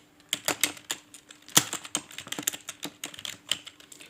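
Irregular bursts of keystrokes on a computer keyboard as text is entered into a Microsoft Word 2016 document, close and fairly quiet, with uneven pauses between clusters of key taps and no talking.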